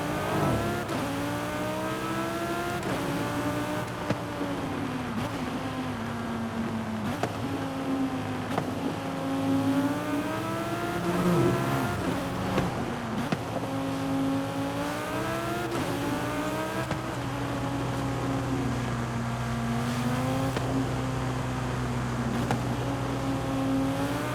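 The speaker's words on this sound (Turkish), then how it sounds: "Mercedes'imizle serbest sürüş yapacağımız yere gidiyoruz." A 2020 Mercedes-AMG C63 S in Forza Horizon 5 cruises in free-roam, its engine note rising and falling steadily through gear changes for the whole stretch, loud and close with no talk.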